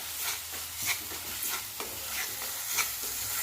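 Dry masala with coconut and whole spices roasting in oil, with shev bhaji gravy, close and fairly quiet: a continuous sizzle broken by repeated stirring scrapes of a spoon in the pan, no speech.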